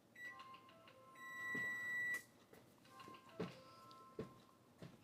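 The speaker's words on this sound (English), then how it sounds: "now your phone's going to ring." A phone rings during a home seed-planting session: bright tonal electronic ring bursts, repeating a few times, moderately loud over a quiet room, with no talking.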